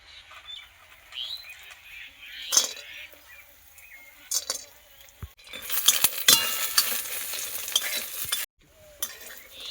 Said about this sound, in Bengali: তেল গরম হয়ে গিয়েছে, এবার বড়িগুলো ভেজে নেব।